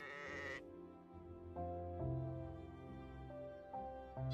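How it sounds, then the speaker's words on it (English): A sheep bleats briefly, followed by soft, simple game-style music notes continuing underneath, quiet and electronic in tone. "Sheep."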